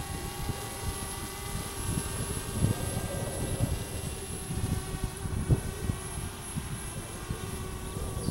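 A DJI Spark drone flies outdoors with a steady, high, buzzing whine from its propellers that holds at a fairly even level, with faint scattered background knocks beneath it.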